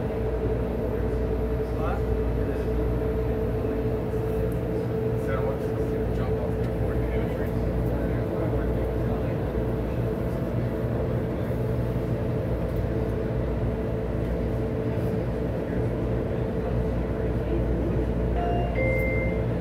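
Las Vegas Monorail train riding northbound, a steady, loud low rumble and hum of the running train heard from inside the car, continuous throughout with faint clicks and a brief tone near the end.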